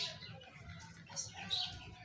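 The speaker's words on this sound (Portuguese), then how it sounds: "Cadê o passarinho?" A small bird in a shop gives a few faint, brief, high chirps scattered among quiet indoor background noise.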